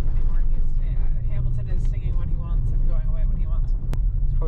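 A Dodge Hellcat rolls along a dirt road near the Teton Mountains, its engine a steady loud low rumble with tire and road noise throughout, while people talk inside the car.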